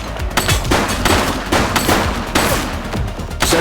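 Steady, dense gunfire from The Precinct on Very Hard mode, with repeated sharp shots and bursts running loud and close through the whole stretch, no talk over it.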